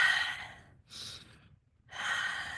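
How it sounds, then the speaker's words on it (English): Slow, audible breaths in and out during a breathing exercise, three soft airy drawn breaths separated by quiet pauses, close and unaccompanied by talk. "breathing in, breathing out"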